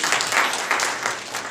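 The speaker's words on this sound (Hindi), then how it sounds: "चलो ताली बजाओ।" Audience clapping together at a Hindi-language self-improvement class in Shimla, a short burst of applause from a group that swells and fades over about a second and a half.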